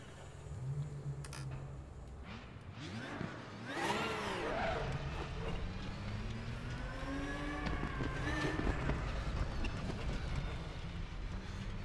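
Flat-six race car engine in RaceRoom Racing Experience, revving up and down through gear changes with rising and falling whines, loud and continuous over roughly twelve seconds, passing other cars.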